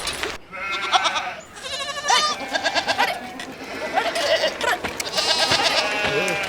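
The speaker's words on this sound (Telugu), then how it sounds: "అసలే గొర్రెలు బెదిరిపోతాను." Sheep on a rural film set bleat repeatedly, with several wavering, nasal calls overlapping one another in quick succession throughout.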